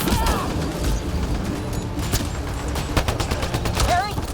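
Rapid bursts of gunfire from a firefight in the video game Mass Effect Andromeda, loud sustained fusillades with sharp shots throughout, mixed with voices shouting over the combat.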